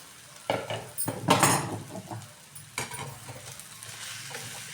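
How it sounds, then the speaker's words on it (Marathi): Fried bitter gourd pieces are stirred into a sizzling curry in a pan, with a steady frying hiss broken by several scraping, clattering bursts of the spoon against the pan. "आता आपण हे फ्राय केलेलं कारलं टाकून व्यवस्थित भाजी आपण मिक्स करून घेऊ."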